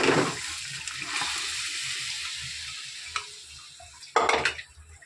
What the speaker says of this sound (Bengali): এবারে আমি ডালটা দিয়ে দেবো।